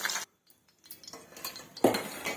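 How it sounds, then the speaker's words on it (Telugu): Fried ingredients being scraped from a pan into a bowl, with a few close clinks and scrapes of a spoon against cookware around a short silent pause, no talking. "ఇవైతే బాగా వేగాయి వీటిని ఒక బౌల్లోకి తీసుకున్నాం"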